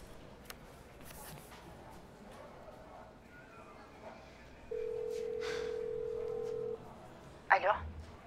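A telephone handset in a Turkish TV comedy gives a steady dial tone for about two seconds, then a quick burst of dialing tones, over a quiet room with faint background murmur.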